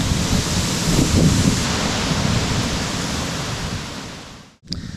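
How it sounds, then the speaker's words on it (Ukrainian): Strong wind at a campsite on the Carretera Austral in Chile roars and buffets the microphone in a steady broadband rush, easing slightly before a brief dropout and a sudden gust near the end. "Скрізь просто вітер все рве на шмаття"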